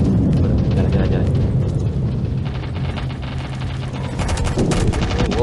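Gunfire in the mobile shooter Modern Strike Online, a steady, loud stream of shots and rumbling blasts with crackly bursts toward the end, while a player talks over it.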